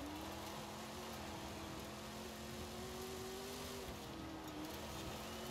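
A procharged Oldsmobile races up a mountain in Forza Horizon 4, its engine holding a steady, droning high pitch with a slight rise and dip, under constant road and wind noise, fairly quiet overall.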